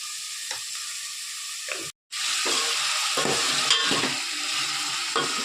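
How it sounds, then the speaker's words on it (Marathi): Cauliflower pieces fry in hot oil with turmeric and salt, giving a steady, close sizzle broken by scraping stirs of a spatula and one brief cut to silence. "आता गोबी फ्राय करायची मस्त"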